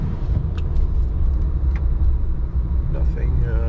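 A 2024 Dodge Ram Cummins Turbo Laramie with a Banks upgrade drives on damp pavement, giving a steady low diesel rumble from inside the cab while a person talks over it.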